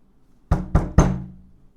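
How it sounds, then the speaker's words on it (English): Three sharp knocks on a door in quick succession, close and clear, each with a short hollow ring-off, against an otherwise quiet background. "there's a knock on the door."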